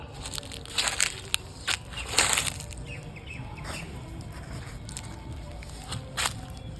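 Scraping and crunching of a tool digging a planting pit in soil for watermelon seedlings, in irregular close bursts with faint birdsong in the background.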